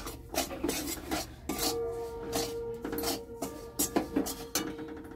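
Rice flour being stirred into hot salted water in a pot for chushi pitha, with repeated rough scraping and rubbing strokes of a spoon against the pot, close and fairly quiet, no talking.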